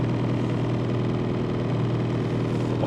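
A 1990 Chevrolet Cavalier with worn-out engine mounts idles steadily up close with a low, even hum and constant rattling vibration throughout.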